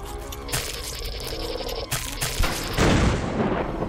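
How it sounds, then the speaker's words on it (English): Gunshots in the video game Lakeview Cabin 6 crack out in a few loud bursts with booming reports, layered over game background sound and tailing off into a rumbling blast. "I need to shoot."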